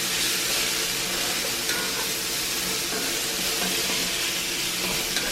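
Broccoli sizzling and frying in a hot cast iron pan for a pork stir fry, a steady loud hiss of oil and steam running throughout with no talk.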